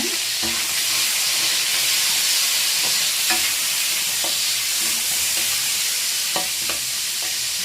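Green chillies and curry leaves frying in hot oil in a pan, a constant close hissing sizzle punctuated by sharp, regular taps and scrapes of a stirring spoon, with no voices.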